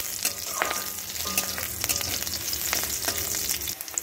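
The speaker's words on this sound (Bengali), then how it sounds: "পুরো তেলের মধ্যে রসুনটাকে ভালো করে ভেজে নেব, একটু লালচে করে।" Garlic frying in oil in a pan, a continuous close sizzle and crackle with intermittent stirring clicks and scrapes, fairly quiet and with no voices.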